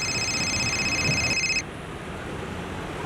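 Phone ringback tone on an outgoing call, a steady electronic ring with clear tonal bands for about a second and a half, then it cuts off and only a low room hum remains.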